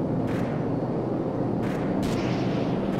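Heavy explosions from an air strike in Call of Duty Modern Warfare rumble in a dense, continuous roar, with a few sharper blasts bursting through near the start and again around the middle.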